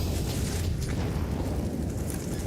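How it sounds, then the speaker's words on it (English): Grenade blasts roar in a Counter-Strike esports match, a heavy, sustained rumbling explosion filling the whole moment with dense low-end noise. "Grenades coming his way"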